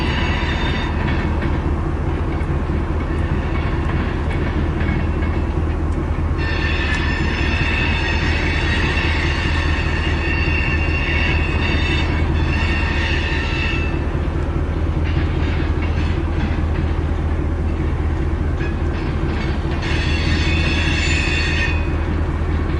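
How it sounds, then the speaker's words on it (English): A loaded BNSF coal train rolls west through Lincoln, Nebraska, a loud, steady close-up roar of wagons and wheels with intermittent high wheel squeal, continuous with no talking. "this is BNSF heading west now with loaded coal here in Lincoln, Nebraska"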